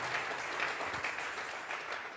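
A congregation claps together in steady, dense applause at a Tuesday Bible study service, filling the room with continuous, even hand-clapping from start to finish.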